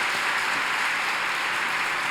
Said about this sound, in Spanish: darle un aplauso de agradecimiento a lo que el Padre nos acaba de traer esta noche